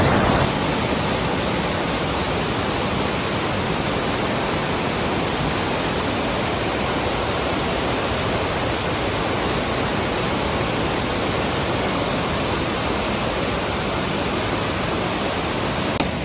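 A Tennessee waterfall roars as a steady, loud, broadband rush that fills the whole stretch without a break.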